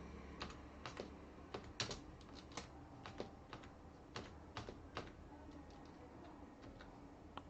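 Keys on a computer keyboard click in a steady, unhurried run as a name is typed, each tap close and distinct over a quiet background.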